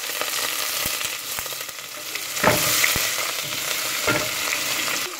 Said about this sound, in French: l'huile est assez chaude, donc je vais passer à la cuisson des haricots